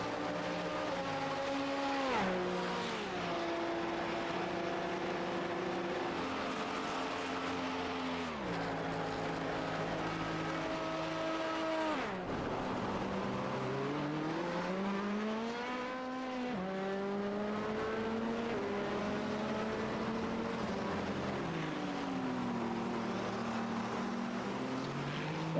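Race cars roar along the Mulsanne straight at Le Mans in a sim racing endurance event, with engine notes climbing and dropping through repeated gear shifts in a continuous loud drone.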